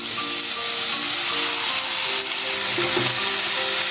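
Boiled banana flower frying with ground cumin and other spices in a pan for a vegetarian mochar ghonto, giving a loud, steady sizzle with faint stirring scrapes throughout.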